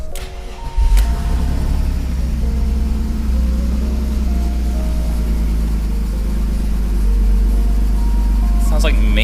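A BMW E46 engine cranks, catches and settles into a loud, steady idle with a few revs, heard up close with a faint exhaust leak noted; no one speaks over it.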